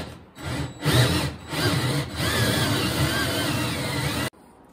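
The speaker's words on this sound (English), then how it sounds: "let's go ahead and drill a hole here in our floor" A power drill grinds steadily through a wooden trailer floor for several seconds, loud and continuous, then cuts off abruptly.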